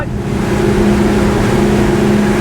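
A 2022 Regal 38 SAV day boat with 900 horsepower drones loudly and steadily up close, its engine pitch holding strong as the boat pushes ahead at speed over waves.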